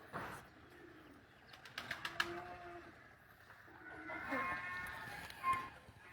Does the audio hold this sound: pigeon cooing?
yes